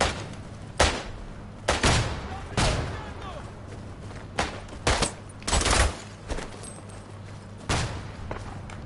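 Explosions and gunfire boom in the Italian-front battlefield of the video game Isonzo, a series of sharp, loud bursts spaced irregularly over several seconds, with a voice heard faintly in the mix.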